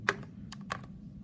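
Soft, quick key presses on a calculator keypad while numbers are entered, a few light clicks spaced irregularly, faint and close, with no talk.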